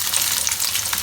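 Onions crackle and sizzle in hot oil in a kadai, a steady bright frying hiss with small popping spatters, close and continuous with no talk.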